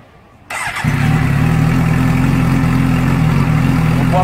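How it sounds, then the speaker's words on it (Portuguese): A motorcycle propped on its stand starts after a brief quiet moment, then settles into a loud, steady, close-up idle. "Vou ligar a moto aqui."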